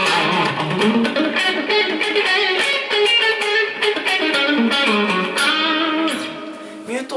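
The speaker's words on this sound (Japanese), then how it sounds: "実際にこういうね、まあ歪みをプラスして弾いていく場合って" A Les Paul electric guitar plays a fast, distorted lead line of dense notes and sweeping runs. It stays loud and continuous, then thins slightly near the end.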